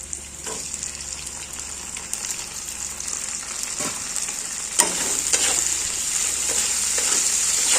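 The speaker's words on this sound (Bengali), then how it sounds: "পেঁয়াজটা লাল লাল হয়ে গেছে এবার এতে টমেটো দিয়ে দেবো" Tomatoes added to browned onions frying in a pan while cooking raw jackfruit, a loud continuous sizzle with occasional stirring scrapes, close and unbroken, without talk.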